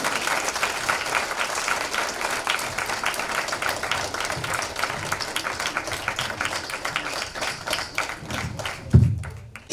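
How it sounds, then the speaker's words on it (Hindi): A church congregation at a Christmas gathering in Ranchi gives sustained applause to welcome a guest worship team, dense rapid clapping that continues for several seconds before a loud thump near the end. "तालियां बजाकर हम उनका स्वागत करेंगे"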